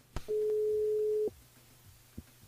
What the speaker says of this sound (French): bah on appelle Nerina